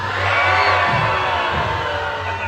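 Theme park audience at the Monsters Inc Laugh Floor show in Magic Kingdom, Walt Disney World, cheering and whooping together in a steady, loud crowd roar with a low hum beneath.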